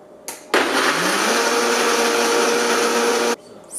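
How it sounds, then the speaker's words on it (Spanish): A kitchen blender purees a creamy vegan pumpkin alfredo-style sauce, roaring loudly and steadily for about three seconds after a brief start-up click, then cutting off abruptly. "Y luego vamos a licuar nuestra salsa."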